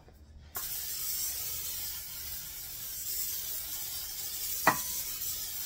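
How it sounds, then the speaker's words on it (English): Cooking spray hisses steadily from an aerosol can onto a baking pan after a brief quiet start, with a short clink partway through. "So we're just going to spray our pan real good."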